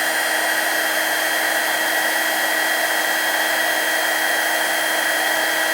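A heat gun blows hot air set to around 600 degrees, a loud, steady close-up whoosh with a constant motor whine that holds unchanged throughout.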